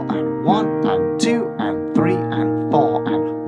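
Piano rhythm exercise with the left hand shifted by an eighth note against the right, steady chords and notes in a syncopated pattern, close and moderately loud, played alone.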